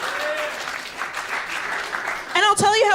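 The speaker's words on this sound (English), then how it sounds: "so that deserves some applause" Audience applause after a talk, a steady wash of clapping across the room with a voice speaking briefly near the end.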